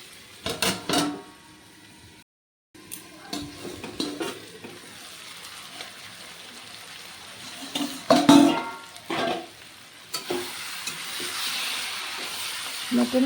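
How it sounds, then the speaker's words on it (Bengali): Mutton fries in a covered pan with a steady sizzle, broken by stirring and scraping of a utensil against metal, with a brief pause partway through. "মটনটা ঢেকে ঢেকে রান্না করলে মটনটা ভাজা হবে"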